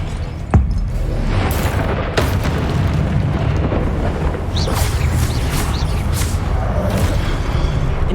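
Confringo blasting spell explosions in Hogwarts Legacy, loud booming bursts with sharp cracks around the half-second and two-second marks over a dense rumbling battle din.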